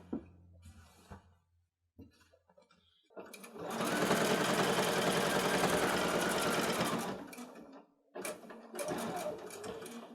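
A sewing machine stitching binding onto a woven quilt runs in a fast, steady mechanical whir for about four seconds, starts again briefly near the end, and is close and clear, with a few quiet handling sounds between runs.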